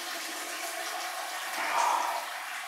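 Wet brew-in-a-bag grain bag lifted from a kettle of pale ale mash, hot water draining back in a steady, moderately loud trickling wash that swells briefly toward the end.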